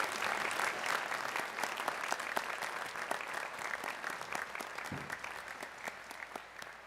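A commencement ceremony audience applauds graduates, a dense, sustained wash of clapping from a large crowd heard at a distance and fairly faint, steady throughout with a slight fade near the end.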